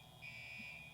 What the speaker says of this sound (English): there's a fire alarm going off in the building